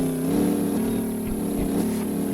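A truck engine in the video game Truckful drones steadily at low pitch while driving along a road, a continuous, fairly loud rumble with slight shifts in tone and no talking.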